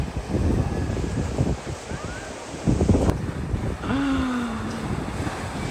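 Stormy wind at Hanalei Bay on Kauai's North Shore buffets the microphone in a steady, loud roar with gusts, over a rushing wash of surf and no talk.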